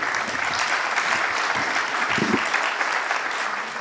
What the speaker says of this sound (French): merci beaucoup, on vous applaudit.